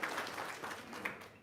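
Brief, faint applause from a small group of listeners at a religious talk, a soft scatter of claps lasting about a second.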